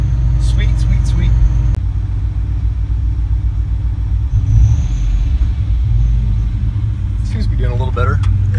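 A revived project car's engine runs with a loud, low steady rumble close by, slow-running and making odd noises, with people talking over it.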